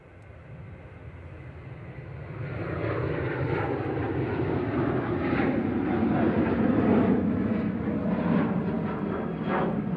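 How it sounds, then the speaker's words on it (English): A Malta Air Boeing 737-800 jet roars past at Manchester Airport, its engine noise rising from a soft rumble into a loud, sustained broadband roar that holds and churns as it nears. "Flight 561 at 737-800 9HQDN, operated by Malta Air."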